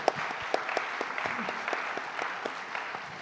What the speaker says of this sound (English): You could give yourselves a round of applause for that.